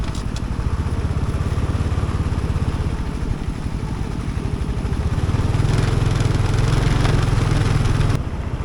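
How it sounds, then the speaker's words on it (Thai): A two-wheel tractor engine in rural Khammouane, Laos, chugs loudly and steadily up close, its rhythmic putter growing a bit heavier near the end. "ใส่รถไถเป็นยานพาหนะ"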